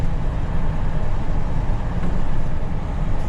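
Steady road noise from new tires on a 2021 GMC Sierra while driving with the window down, a continuous low rumble and hiss at even loudness throughout.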